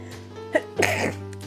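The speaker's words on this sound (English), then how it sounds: "Excuse me a minute, I have to sneeze." A single person sneezes indoors in a dusty room, a short sharp burst after a brief intake of breath, close and fairly quiet over a steady low electrical hum.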